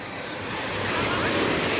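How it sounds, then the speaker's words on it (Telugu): Sea waves breaking on Mypadu beach in Nellore make a steady, broad surf roar that swells louder over a couple of seconds, with no voices. "ఒక్కొక్క ఆ సముద్రం అలా సౌండ్ తింటా ఉంటే మామూలుగా లేదు"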